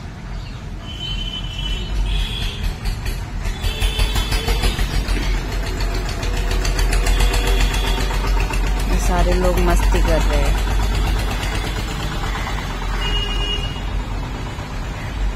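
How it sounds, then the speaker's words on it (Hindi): Cars and tractors pass along a road at a crowded Shyam Baba pilgrimage gathering, a continuous engine rumble with rhythmic diesel chugging that swells midway, heard under ongoing talk from people nearby. "यहाँ से गाड़ियां वगैरह ट्रैक्टर वगैरह भी निकल रहे हैं ना"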